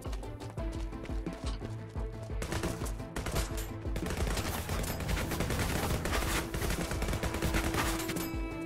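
Automatic rifle fire in the video game Sword With Sauce, loud dense rapid bursts that run almost without a break alongside other game effects.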